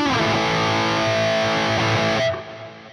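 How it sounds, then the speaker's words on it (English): An electric guitar played through a compressor in the Neural DSP Soldano SLO 100 plugin rings out a sustained, evenly squashed chord with a slightly gritty edge, then is cut off near the end. "And we've got a compressor. I love using the compressor."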